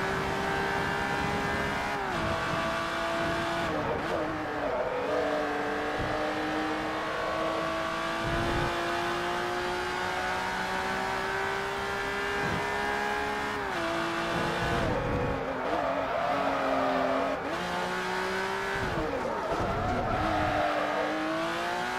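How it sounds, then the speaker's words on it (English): A race car engine in the video game Forza Motorsport 3 drones continuously, its pitch climbing through the gears and dropping at each shift, with brief downshifts and braking, loud and unbroken. "I can hear the car a bit better now"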